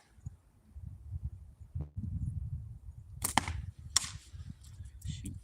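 Slingshot shots fired outdoors on ice: two sharp snapping releases with brief ringing impacts land a little under a second apart, above a steady low rumble of wind and handling noise.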